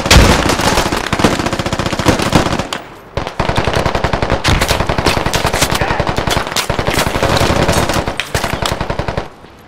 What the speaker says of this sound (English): Gunshots on the right.